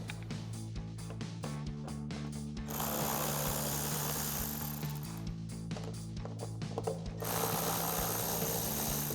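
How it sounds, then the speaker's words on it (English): A hand ratchet with a T25 Torx socket removes Torx bolts from a 2018-2020 Ford F-150 LED projector headlight bracket. It makes rapid, regular clicking in close, quiet runs over a low steady hum. "So now we'll take a T25 Torx socket to remove these 3 Torx bolts."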